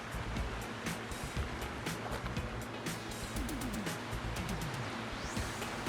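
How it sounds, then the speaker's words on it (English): River water rushes steadily near Stanley, Idaho, in the Sawtooth Mountains, a constant broadband roar of flowing water heard fairly faintly from a distance with no pauses. "All the water running."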